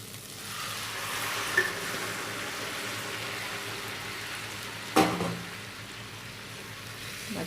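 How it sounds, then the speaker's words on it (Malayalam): Cooked mutton being stirred into a pan of frying masala for a mutton curry, producing a soft, steady sizzle with a couple of brief spoon knocks and a clunk partway through. "മട്ടൻ ചേർത്ത് കൊടുത്ത് നന്നായിട്ട് മിക്സ് ചെയ്ത് കൊടുക്കാം."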